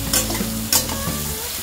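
Crushed garlic and chopped green chili fry in a pan, with a steady sizzle and two sharp bursts of stirring or scraping, close and fairly loud, no voices.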